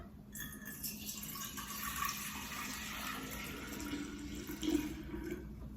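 Tea concentrate is poured into a glass pitcher set on a towel on a countertop, a soft, continuous liquid trickle lasting several seconds with a slight gurgle near the end.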